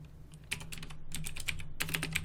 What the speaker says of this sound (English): So we'll start by typing a double quote and then the name of some columns.